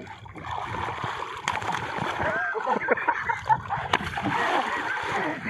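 Water splashing and churning near a boat while fishing for blue marlin at sea, with steady wash and a few sharper slaps, under ongoing talk from people on board.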